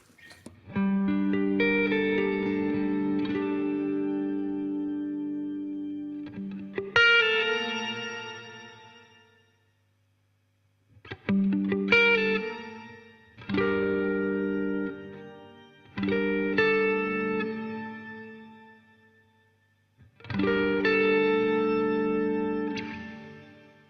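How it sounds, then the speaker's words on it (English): An electric guitar played through a Strymon BigSky MX set to a shimmer reverb: chords ring out in separate phrases, each one swelling into a bright, octave-shimmering wash that decays slowly into short silences between strums. "the first reverb I activate is going to be the Shimmer"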